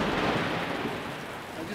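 Thunder during a lightning storm in the bosque, heard as a broad, dense rumble that fades slowly over a couple of seconds.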